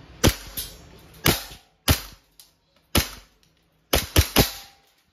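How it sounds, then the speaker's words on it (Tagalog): An E&C Glock 17 Gen 5 airsoft pistol fires about eight sharp, close snapping shots at uneven intervals, some in quick pairs, with near silence between them. "Okay, firing. Glock 17 Gen 5. And firing."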